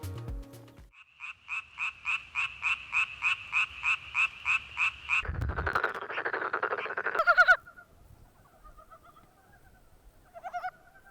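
Frogs croaking in a DMZ wetland in Korea: a steady series of about a dozen rhythmic, evenly spaced calls close by, followed by a burst of louder mixed calling and then sparser, thinner chirps.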